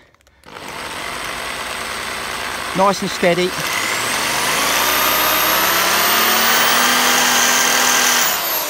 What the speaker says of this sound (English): Let's drill this mother out.